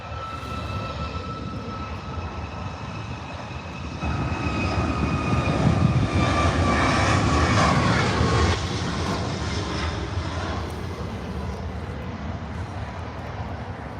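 A fixed-wing airplane climbing out from an airport, its engine roar swelling in the middle and then easing off, heard from a distance with no talk over it.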